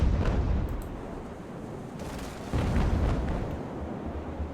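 Sailing-ship cannons in Ultimate Admiral: Age of Sail firing standard shot, deep rumbling booms that roll together with a fresh heavy blast partway through over a continuous battle din.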